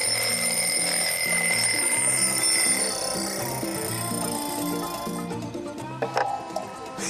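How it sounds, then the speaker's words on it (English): A small alarm clock rings continuously, its steady high-pitched trill running for several seconds before fading into some handling noise. "I've got a little alarm clock here, which I'm going to set off"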